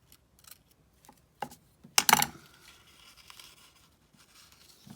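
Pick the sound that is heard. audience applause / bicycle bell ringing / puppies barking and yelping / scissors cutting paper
scissors cutting paper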